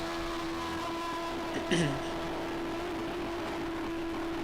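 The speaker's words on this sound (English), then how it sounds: "Oh god, the engine just... help. I don't want to listen to this. Oh, that car is screaming for help." The failing engine of a race car in a 1995 Belgian Grand Prix racing video game drones steadily throughout, with a brief whining pitch sweep partway through. A voice can be heard speaking.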